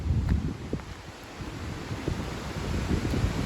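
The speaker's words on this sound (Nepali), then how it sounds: "के साह्रो हावा चले।" Strong wind gusts buffet the microphone outdoors in rain, a rough, low rushing roar that swells and dips in irregular bursts, with no voices.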